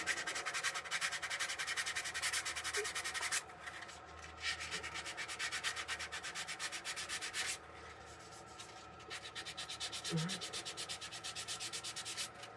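Steady, rhythmic scratching of 240-grit sandpaper rubbing against a wooden bowl, continuing in several long passes with brief pauses between them, close and fairly quiet.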